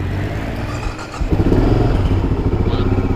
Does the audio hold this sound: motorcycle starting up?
yes